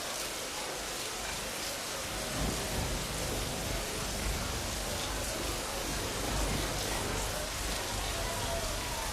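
Steady rain falls throughout as continuous broadband hiss with a few low rumbles, fairly even and unbroken, with no voices.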